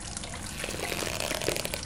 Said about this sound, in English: I need to squeeze it in a bottle to get drinkable water.